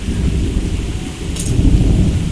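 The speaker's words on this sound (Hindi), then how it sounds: "और देखो बादल कैसे गरज रहे हैं।" Deep thunder rolls through steady heavy rain, a loud continuous rumble with the hiss of falling water and no voices.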